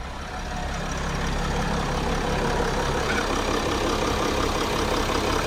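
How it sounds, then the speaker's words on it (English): Van engine idling after EGR valve maintenance, a steady low rumble that holds even and continuous throughout, close and moderately loud with no talking. "Motor's on."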